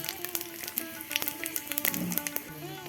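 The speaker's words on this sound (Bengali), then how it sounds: "তরকারিতে 5 ফোড়ন দিচ্ছি," Five-spice seeds hit hot oil for a curry, giving a soft sizzle with scattered small crackles and pops under a faint voice.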